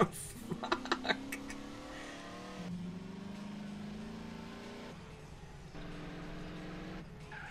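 A faulty car engine in GTA San Andreas during a lowrider race, a low steady droning hum with shifting pitch after a few sharp clicks at the start, fairly quiet and continuous.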